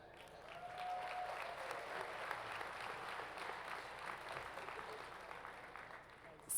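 An audience at the Harrisburg University 2023 commencement ceremony claps steadily in a large hall, a sustained wash of applause lasting several seconds before tapering off.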